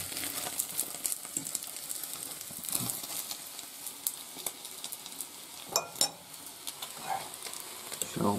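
Food fries and sizzles in a pan over a camp stove on a winter hiking trip, a steady crackling hiss broken by occasional scrapes and clinks of stirring, close and moderately loud.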